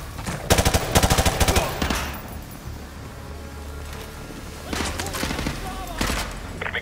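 Rapid suppressing gunfire in Call of Duty Modern Warfare 2 Remastered, two loud bursts of automatic shots at the start and later, with combat noise and voices in between.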